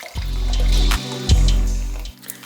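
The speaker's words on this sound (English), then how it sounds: "Pour, pour, pour, pour." Soda pours into a cup in two loud, close gushes of liquid, separated by a short break and ending with a few small trailing splashes.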